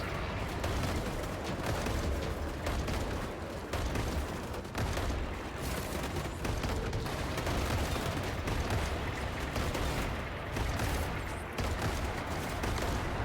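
Turrets defending a base in the wasteland vehicle-building game Machine Mind fire in a dense, continuous barrage of rapid shots that stays loud and unbroken, with only brief dips in intensity.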